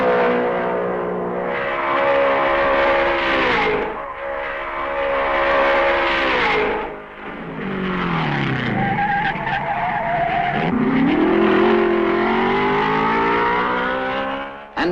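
Mercedes race cars roar past at the 1955 Spa Grand Prix. The loud engine note holds steady, then rises and falls in pitch as the cars sweep by close, and no voices are heard.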